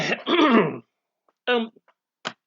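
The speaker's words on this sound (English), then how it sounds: "A smoker's coughing" A rough throaty cough and clearing of the throat up close, followed by a couple of shorter hacking bursts.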